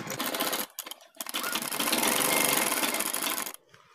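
A sewing machine stitches a piping shirt collar up close: two short bursts of rapid needle chatter, then one long, steady run of stitching before it stops, with no voices.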